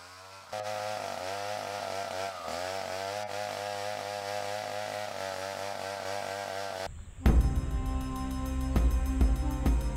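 Chainsaw cutting through huge tree trunks: a steady, loud two-stroke drone runs for several seconds, then a harsher, rougher burst of sawing noise as the chain bites into wood near the end.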